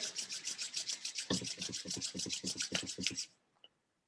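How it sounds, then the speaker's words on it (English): Two palms rub briskly together in quick back-and-forth strokes, a close, dry, rhythmic swishing for about three seconds that ends abruptly, followed by a faint single tap and silence. "rub your hands together"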